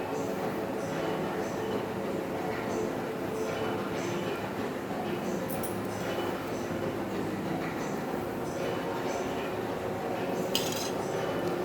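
Dough is worked by hand in a bowl the way chapati dough is kneaded, producing continuous soft squelching and slapping with occasional light clinks against the bowl.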